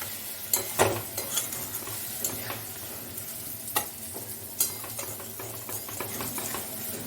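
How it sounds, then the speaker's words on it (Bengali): Tomatoes frying in a pan while being stirred, a steady sizzle underneath with scattered sharp scrapes and clinks of the utensil against the pan, close and fairly quiet. "টমেটোটাকে ভালো করে ঘেটে দিতে হবে।"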